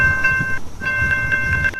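A train passes in the Minecraft video game: a short, steady mechanical whir with a sustained whistle-like tone that breaks off briefly partway through, heard alone without talk.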